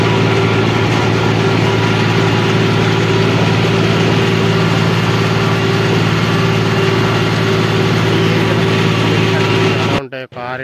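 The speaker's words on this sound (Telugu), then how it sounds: "ఇక్కడ చూడండి, కొత్త కొత్త లారీలు అన్నీ పోతూ ఉన్నాయి." New lorries pass by a petrol pump near cement factories, heavy diesel engines droning loud and steady for about ten seconds before cutting off abruptly, with a voice talking over it.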